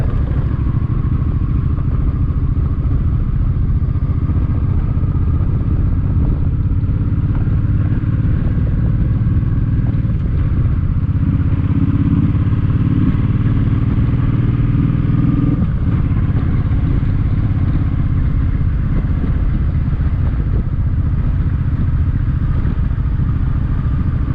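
A Suzuki M50 motorcycle being ridden, its engine droning steadily at mid pitch under constant wind rush, loud and close for the whole stretch with a brief shift in tone midway.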